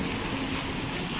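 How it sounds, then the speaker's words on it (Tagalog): Heavy rain pours down steadily, a dense and even hiss of drops with no break and no voices over it. "Sobrang lakas ng ulan dito."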